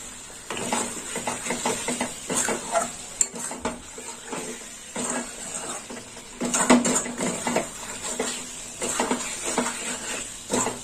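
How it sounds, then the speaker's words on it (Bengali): A spatula stirs egg and capsicum with salt in a pan, scraping and clinking in repeated bursts over a faint sizzle, close by with no talking. "একটু নেড়ে চেড়ে নেবো।"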